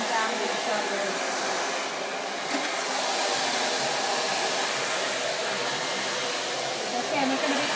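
Hair dryer blowing steadily during a brush blow-dry, airflow aimed downward along the hair, a loud continuous rushing whir close by with slight wavering as the dryer moves.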